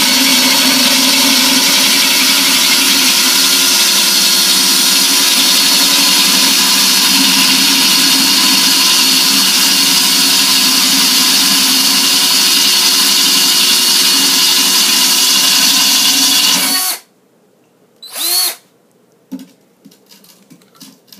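A power drill whines steadily and loudly for a long stretch drilling a non-tempered glass tank, then cuts off abruptly, followed by a few short scraping and clattering sounds.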